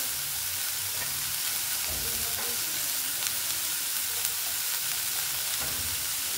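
Chopped carrot and capsicum stir-frying in a pan for veg spring rolls, a steady close sizzle and crackle with faint stirring scrapes running throughout, no voices.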